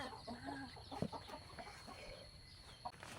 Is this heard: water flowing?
no